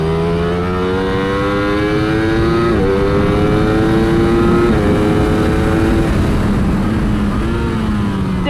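A Ducati Streetfighter V4S motorcycle accelerates hard on a race track, its loud, close engine note climbing steadily through the revs with brief dips at two gear shifts before rising again.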